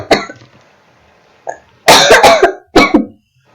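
Several harsh coughs up close, one at the start, then a quick burst of three and a final cough, with quiet gaps between.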